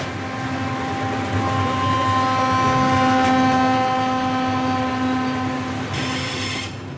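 A freight train rolling along in Mexico, heard from on board: a loud, steady rumble with a sustained droning hum and metallic rail noise, swelling slightly midway, with a brief hiss near the end.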